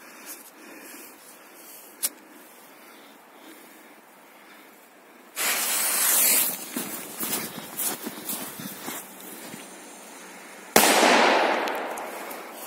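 A faint pop is followed by a loud, long fizzing hiss that fades, then a second sharp burst of hissing starts near the end.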